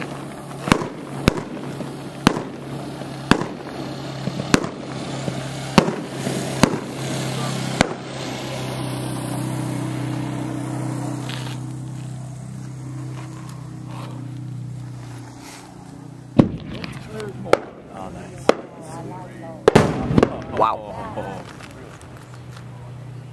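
A fireworks cake goes off at an outdoor pyrotechnics gathering, sending a rapid string of sharp, loud bangs and crackles. A rumbling lull follows, then more scattered reports, with people talking throughout.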